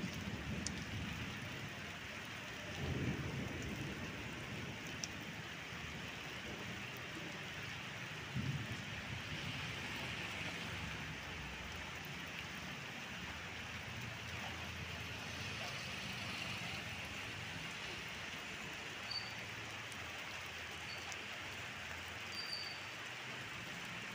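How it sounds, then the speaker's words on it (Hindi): Rain falls steadily on a road near Kola Kusma in Dhanbad, India, making a constant broadband hiss for the whole stretch. A few soft thumps and faint passing traffic sit beneath it, and nobody speaks. "देखिए अभी बारिश हो रहा है, मौसम ठंडा कर दिया है"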